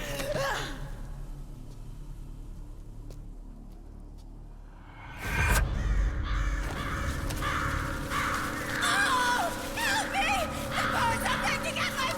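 Crows caw repeatedly in the video game Metal Gear Solid 4, loud and close, with raspy calls layered over a whooshing swell and a dense game soundscape, and gasping, distressed vocal sounds mixed in.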